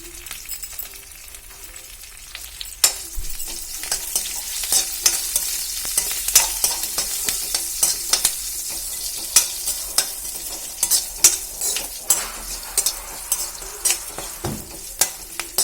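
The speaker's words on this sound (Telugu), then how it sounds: "చల్లమిరపకాయలు కూడా పోపులో వేసుకొని మనం పప్పులో వేసుకోవాలన్నమాట" Green chillies sizzle in hot tempering oil for dal made with bottle gourd, a steady frying hiss with frequent sharp crackles and pops throughout, close and fairly loud with no talk.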